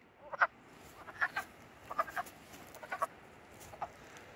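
Frogs call from a pond during mating season, faint rhythmic croaks repeating about every second over a soft, steady background of outdoor noise.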